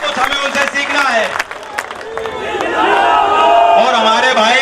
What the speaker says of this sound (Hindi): मैं चाहता हूं उनके लिए आप विशेष ताली बजाओ